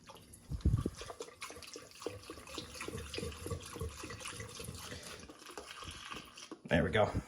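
Cleaning solution poured into a glass bong, a steady gurgling pour with sloshing and drips, a louder splash at the start and another near the end, heard under ongoing talk.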